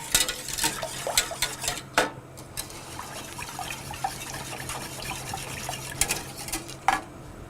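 A clementine mixture for panna cotta stirred in a pot, with repeated sharp clinks and scrapes of a utensil against the metal over a soft liquid swirl, close and irregular.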